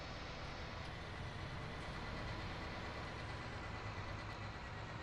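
Steady truck engine idling in Farming Simulator 19 during harvesting, a continuous low rumble with a broad noisy wash on top, holding even and fairly quiet throughout with no talk.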